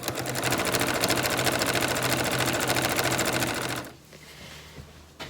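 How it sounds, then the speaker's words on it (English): A sewing machine runs fast and close, stitching fabric in a dense, even mechanical rattle for about four seconds, then stops, leaving quiet room noise with faint handling sounds. "So I've just got to re-thread the sewing machine, finish pinning this to make sure that it's kind of looking okay. And then I can sew that."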